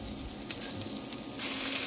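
Garlic, onion and fatty bits of pork frying in a pan, a loud continuous sizzle with a few stirring knocks, close and without speech.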